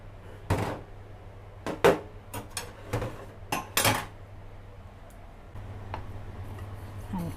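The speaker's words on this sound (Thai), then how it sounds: "มาหั่นไข่เป็นคำๆนะคะ" A knife chops a boiled egg into bite-size pieces on a board, several sharp knocks spaced irregularly, close and fairly quiet with a low hum underneath and no talking.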